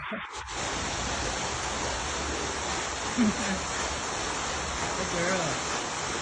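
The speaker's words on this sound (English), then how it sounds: "a waterfall that you hear" An indoor office waterfall gives a steady, moderately loud rushing hiss that runs throughout, with faint voices in the background.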